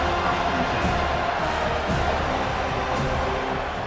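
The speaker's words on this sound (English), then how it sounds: "The roar of the crowd trying to fuel this defense to keep them pinned in their own end." Stadium crowd roar in the EA Sports College Football 25 video game, a dense continuous wash of cheering and noise held at a steady loud level throughout.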